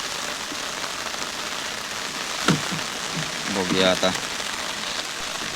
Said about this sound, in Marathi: कारण पाऊस भरपूर हा